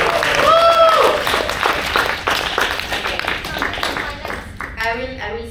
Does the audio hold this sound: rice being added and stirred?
no